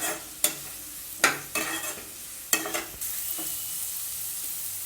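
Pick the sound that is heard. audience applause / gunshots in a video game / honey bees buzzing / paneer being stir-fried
paneer being stir-fried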